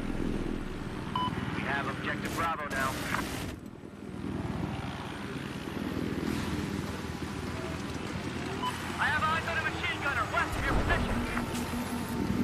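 A helicopter rotor thrums in Battlefield 4, a continuous loud whirring drone from a game vehicle, with a player talking over it at intervals.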